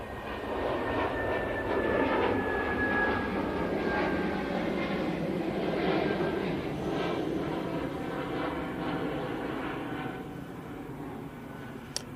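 At Manchester, a Lufthansa City Airbus A320neo departs for Munich with a moderately loud, even engine roar and a faint descending whine, fading gently toward the end.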